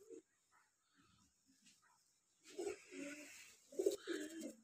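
A racing pigeon from an old bloodline, black-tailed with a red head and neck, gives a few soft, faint coos in a quiet space. The coos come in short, low bursts that gather toward the end.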